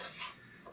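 A utensil scrapes leftover bulgogi remains from a pan, one short metallic scrape and clatter, close and quiet with no voices.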